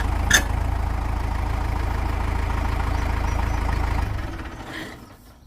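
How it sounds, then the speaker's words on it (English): A tractor engine idles steadily and close, its loader lifting the front end off the ground to jack up a big flat tire; the low rumble holds for about four seconds, then drops away and fades. "This is how you jack up your tire on a tractor with a loader."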